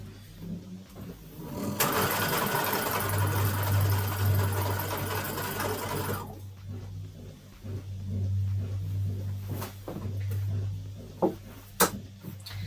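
Home sewing machine stitching borders onto a busy patchwork quilt, a steady whirring hum that runs in two long bursts with a short pause between, followed by a few light clicks and taps.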